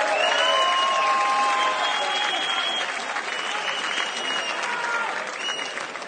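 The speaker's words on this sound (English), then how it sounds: "on peut l'applaudir encore une fois" A crowd applauds a newly crowned heavyweight champion at an Ares fighting event, with dense, sustained clapping and cheering that stays loud and close throughout, tapering slightly toward the end.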